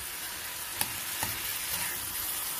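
Boiled cauliflower pieces fry in oil in a pan, a steady bright sizzle with faint clicks of stirring, heard close and alone without voices.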